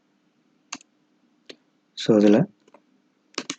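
A few isolated clicks from computer keyboard typing, set apart by pauses, with a short stretch of speech in the middle.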